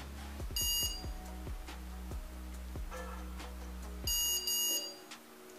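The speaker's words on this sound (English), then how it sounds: "wait for some time until you get some beep sounds" Electronic beeps from a quadcopter's electronic speed controllers during APM 2.8 flight controller setup, a few short tone bursts near the start and again near the end, over a steady low hum.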